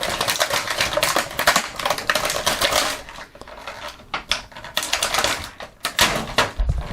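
Scissors or a blade cut a Masterverse Mantenna action figure's legs free from plastic packaging, making rapid crisp snipping and crinkling plastic sounds in irregular bursts, close to the microphone.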